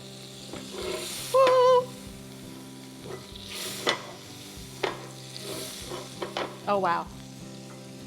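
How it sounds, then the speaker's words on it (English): Shrimp sear in butter in a smoking-hot skillet, giving a steady loud sizzle and crackle throughout, with a person briefly exclaiming over it. "And this shrimp is going to get basically blackened and caramelized."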